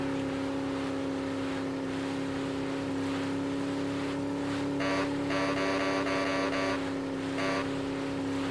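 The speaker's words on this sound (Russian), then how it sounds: "Это такая патрульная просто лодка." Motors of a patrol boat in the vehicle-combat game Crossout drone steadily with a constant tonal hum and whine, running throughout and swelling briefly louder partway through.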